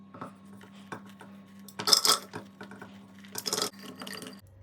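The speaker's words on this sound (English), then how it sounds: "Now what I'm going to do is put the raspberries in a blender" Frozen raspberries tipped into a blender, a few hard clattering bursts of fruit striking the jar between quieter rustling, close and sparse with no speech.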